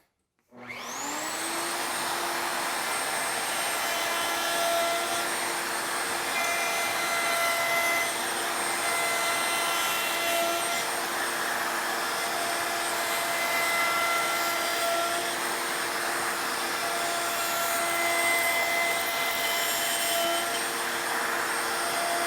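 A handheld router cutting a rabbet around the edge of a wooden workpiece on a Triton TWX7 workcentre, spinning up then holding a loud, steady high whine for the whole stretch, with no talk.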